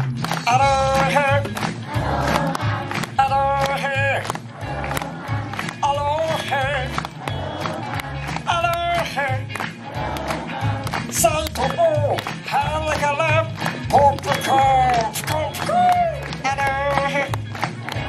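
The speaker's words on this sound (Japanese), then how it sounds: "おお、みんな手拍子。" Audience at the Stitch Encounter show at Tokyo Disneyland clapping in rhythm along to upbeat computer-style music, steady even beats under the music with a voice speaking over it.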